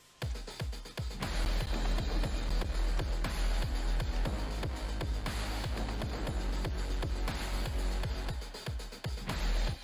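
A full drum groove with steady kick and snare hits over a deep, sustained bass line, dense and continuous with no voices.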